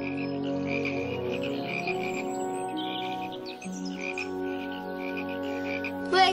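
A thick chorus of croaking frogs fills the scene with steady, layered, rhythmic calls at close range, alone without any talk, ending in a brief louder burst.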